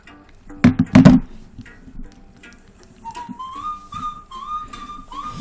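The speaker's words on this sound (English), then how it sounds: "banjo whistling type of country music" Melodic whistling from a song by a banjo-driven country band, a clear rising and falling tune entering after a few sharp plucked hits, moderately loud without speech.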